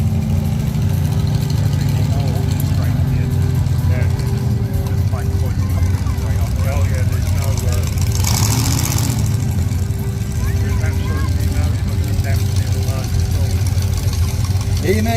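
Monster truck engine at a truck show, a loud, continuous mechanical roar and rumble close by, steady throughout with a brief hissy burst near the middle, with crowd and announcer noise underneath.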